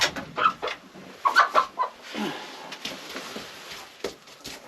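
A backyard homestead chicken clucking nearby in short bursts, with a person talking softly in the background.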